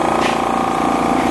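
A laser cutter's pump hums steadily once switched on, a constant mid-pitched motor drone running unchanged for just over a second with no talk.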